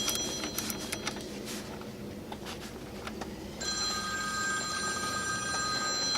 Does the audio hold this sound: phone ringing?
yes